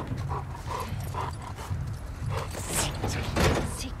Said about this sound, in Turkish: Köpek de nefes nefese kaldı.